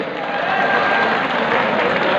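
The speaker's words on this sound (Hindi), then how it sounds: "जोरदार तालियां अल्लामा इकबाल के लिए" Dense applause from a college audience at a quiz competition, steady broadband clapping that holds at an even level from start to finish.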